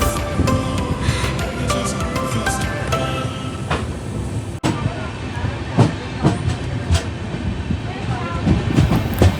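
A train slowing on the Konkan line rumbles along the tracks with a rolling clatter and occasional sharp clicks and knocks, loud and close, with a steady wash of noise throughout.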